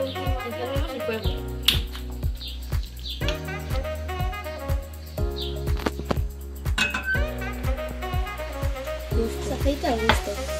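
A utensil stirs and clinks against a pan on the stove while oil and tuna with spices sizzle, with scattered sharp taps and scrapes over a steady frying hiss.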